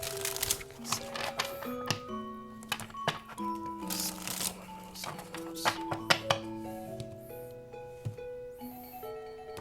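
Tarot cards being shuffled and drawn at a reading table, heard as soft, irregular papery taps and flicks that sit beneath a steady bed of melodic background music.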